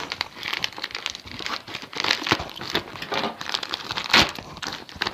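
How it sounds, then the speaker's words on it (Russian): Plastic AliExpress parcel being opened up close, a quiet run of crinkling and crumpling with short tearing bursts and irregular rustles, no voice. "Так, открываем мою посылочку"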